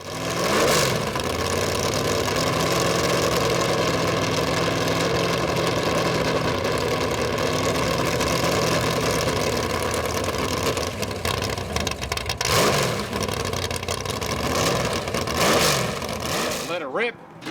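A 1968 Shelby McLaren M6B Can-Am race car sits on the Long Beach Grand Prix circuit. Its engine holds a loud, rough idle close by, then swells in a couple of sharp revs near the end before cutting off abruptly.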